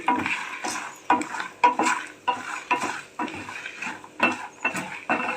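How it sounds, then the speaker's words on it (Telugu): Mustard seeds crackling in hot oil in a pan, with sharp spattering pops arriving in short irregular bursts, close and fairly quiet, with pauses between clusters. "కొంచెం ఆవాలు యాడ్ చేసుకున్నా ఇవి కూడా కొంచెం వేగాలి"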